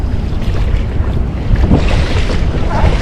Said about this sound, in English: look how choppy it is already. And the wind is blowing.